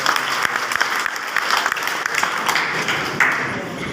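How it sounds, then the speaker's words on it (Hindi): Dense, loud applause from a crowd at a Dr. Ambedkar 131st birth anniversary ceremony as an honoree receives an award; steady clapping fills all four seconds with a few sharper individual claps standing out. "आवाज दिखाई है, जोरदार तालियों के साथ"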